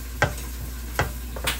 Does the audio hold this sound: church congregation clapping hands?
no